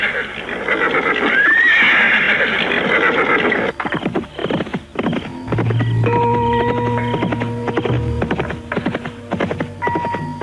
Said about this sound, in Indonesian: Mereka menunggang kuda menuju ke Jawa Timur.